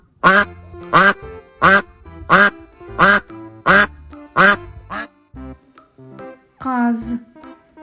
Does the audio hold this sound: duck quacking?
yes